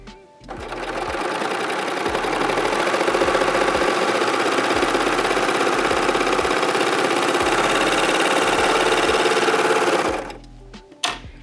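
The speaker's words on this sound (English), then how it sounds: "Place it under the serger." Serger sewing machine stitching and trimming stretch fabric with its blade, running at a steady fast whir with a rapid mechanical pulse for about ten seconds, then stopping, with a few soft clicks after.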